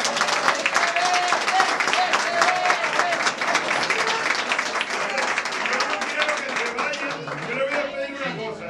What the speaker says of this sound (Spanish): pedir un fuerte aplauso para ellos